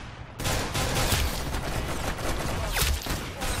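Dense, continuous gunfire crackles nonstop in the Roblox game Arsenal, rapid shots layered into a steady barrage with a louder burst near the end, synthetic and close.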